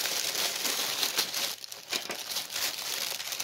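A plastic mailer bag is cut open with a blade, giving continuous close crinkling and rustling of the plastic with a few sharper tearing snaps, and no voices.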